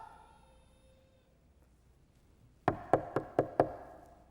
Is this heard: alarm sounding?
no